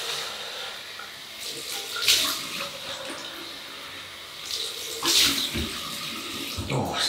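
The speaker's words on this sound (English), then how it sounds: "Water to rinse, and we've just used the alum" A bathroom tap runs while someone rinses off after a shave with a Gillette Super Speed Red Tip razor, a steady stream with louder splashing bursts as hands scoop and splash water.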